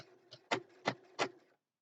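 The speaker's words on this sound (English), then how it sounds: "if you can knock the speed down on your sewing machine, that is the best thing to do when you're going around curves" A sewing machine stitches slowly around a curve while piecing a quilt block, giving four short bursts of mechanical whirring spaced about a third of a second apart, close and fairly quiet, with no talking.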